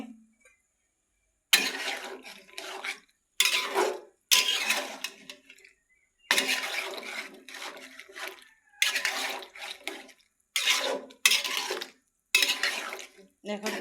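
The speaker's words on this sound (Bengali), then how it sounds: "লাউটা দিয়ে দিলাম এখন একটু নেড়ে ছেড়ে দেবো ভালোভাবে" A spoon scrapes and clatters against a pot while bottle gourd curry is stirred, in repeated short bursts separated by silent pauses, fairly close.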